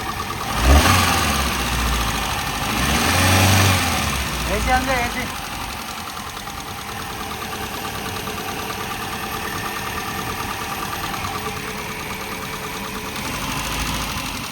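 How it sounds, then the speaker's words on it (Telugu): The 1.1 litre petrol engine of a 2014 Hyundai Santro Xing GLS idles with a steady, even hum; a person talks briefly over it near the start. "one point one litre petrol engine sir"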